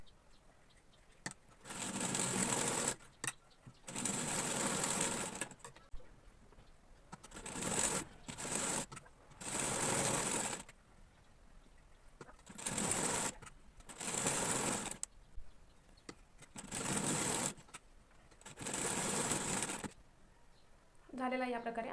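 Sewing machine stitching the side tucks on a blouse, running in repeated bursts of steady whirring separated by short pauses, with occasional quiet talk between runs.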